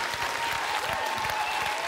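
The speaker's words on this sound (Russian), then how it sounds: "Эти аплодисменты тебе." Applause from a studio audience at a televised comedy roast, steady dense clapping sustained throughout without talk.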